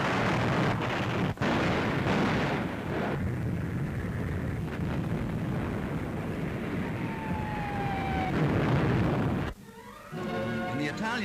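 Heavy artillery shelling of German positions during the Allied invasion, heard in a wartime newsreel as a sustained loud rumble of blasts with a narrator speaking over it, cut off abruptly near the end.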